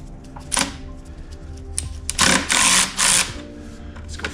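Mechanical clicks and short ratcheting bursts from hand tools while a tensioner is unbolted from a 1998 Subaru Impreza 2.5RS EJ25 engine, close by, with several loud rasping runs in the second half.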